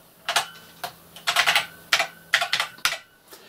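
Typing on a computer keyboard while writing a simple program, close crisp key clacks in short uneven bursts with brief pauses between them.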